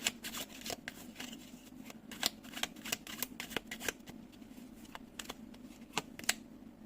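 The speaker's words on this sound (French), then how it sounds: "On va aller choisir, on va aller prendre une carte de plus." Tarot cards shuffled by hand, a close run of crisp riffling flutters and papery snaps in uneven bursts, fairly quiet with no talking.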